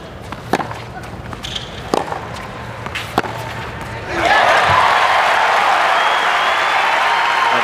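Tennis crowd at the US Open during Federer versus Robredo: a few sharp ball strikes and court sounds give way to a loud, sustained roar of cheering and applause from the stadium crowd.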